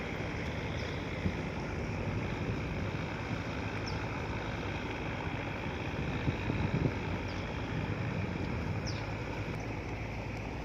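A continuous low engine drone of a fishing boat on the Pattani River rumbles on with wind and water noise, steady and fairly loud throughout, no voices.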